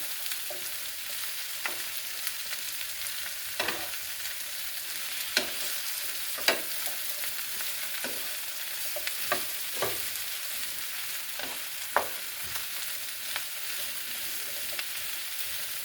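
Squash, zucchini, onions and potatoes frying in leftover grease in a pan: a soft continuous hiss broken by scattered sharp crackles and pops, fairly quiet and close, with no voices.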